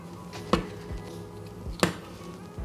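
Two sharp, close clicks a little over a second apart as the spike on a cap pierces the seal of a tomato puree tube in a kitchen.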